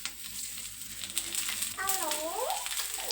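Oil poured over stuffed chillies in a pan sets off a close, steady sizzle with bubbly frying crackle, swelling midway into a brighter hiss with a few whistling tones.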